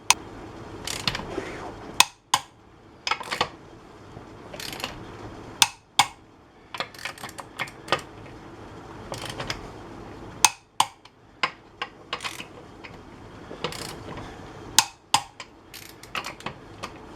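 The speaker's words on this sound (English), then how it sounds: "We'll get the lug nuts tightened to 140 foot-pounds." Wheel lug nuts on a 2007 Chevy Avalanche are tightened to torque with a wrench, producing rapid ratchet clicks in bursts broken by sharper clacks. Nearby and fairly steady, no speech.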